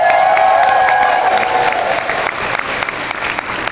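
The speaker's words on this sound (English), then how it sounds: "Let's make some noise for them, guys." An audience at a She is WISE conference in 2025 cheers and applauds, with whoops and loud dense clapping at first that thins and softens toward the end.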